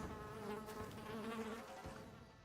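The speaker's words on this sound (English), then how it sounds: "Frickin' bees" Bees buzz in the video game Battle Brothers, a dense, continuous insect drone with wavering pitch, loud and close with no voices.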